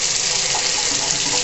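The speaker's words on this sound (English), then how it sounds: "this knob makes it come fast out of the tap, slow out of the tap" Water running steadily from a bath tap, a continuous broad hiss of flow filling the tub, close and fairly loud with no pauses or voices.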